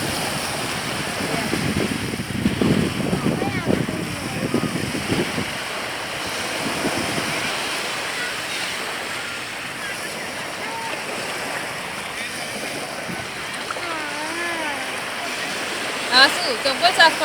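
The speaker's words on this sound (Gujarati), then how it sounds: "થોડું થોડું આગળ આવે છે પાણી." Waves wash in at Dumas beach in the evening with a steady roar of surf and wind, and people talk nearby over the water throughout.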